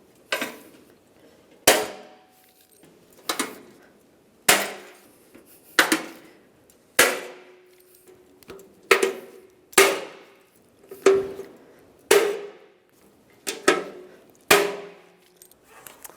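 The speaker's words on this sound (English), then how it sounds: "Snap the rivets." Rivet gun snapping rivets one after another into a rear side bumper end on a 2007-2013 Chevrolet Silverado 1500, about eleven sharp close metallic snaps spaced roughly a second or two apart, with a faint hum in between.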